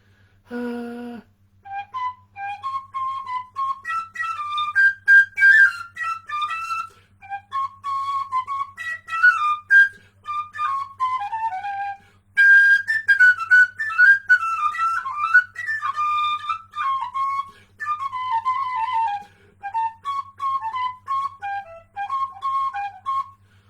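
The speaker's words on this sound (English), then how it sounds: "I'll play it on the green tipped penny whistle." A green-tipped penny whistle plays a Christmas carol melody solo, clear and bright, in phrases separated by short breaths, with a faint low hum underneath.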